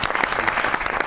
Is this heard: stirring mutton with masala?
no